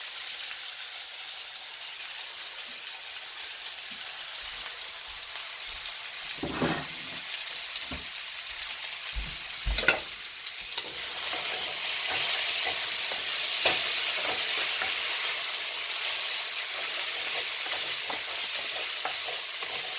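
Onions sizzling and frying in a pan for shakshuka, a steady broadband hiss with a few sharp scrapes of stirring near the middle, the frying growing louder and denser in the second half, with no talking.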